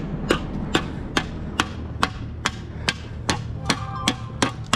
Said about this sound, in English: He has a hammer to the other metal shovel.